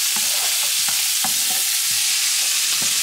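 Onions frying in a pan, a steady loud sizzle with rhythmic scrapes of a utensil stirring close up.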